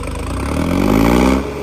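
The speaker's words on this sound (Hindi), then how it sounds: "भाई ट्रैक्टर चलने लगा है" A tractor engine revs up under load while pulling a harrow through a field. The steady mid-pitched drone swells louder for about a second, then eases back slightly.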